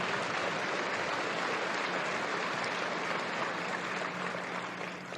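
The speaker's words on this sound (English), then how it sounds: "Give them a lot of applause" Sustained applause from a large audience, a dense even wash of clapping that holds steady before tapering slightly at the end.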